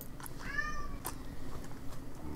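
A single distinct meow from a nearby cat rises and falls, followed by quiet room tone and a few soft clicks.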